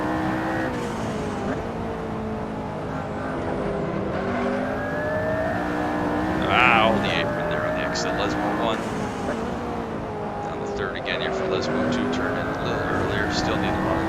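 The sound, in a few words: McLaren P1 engine in Assetto Corsa video game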